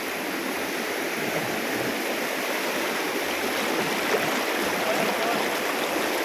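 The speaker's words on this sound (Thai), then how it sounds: "น้ำไหลเลยเนาะ" Continuous rushing of a mountain stream, a steady broadband wash at moderate volume with no pauses.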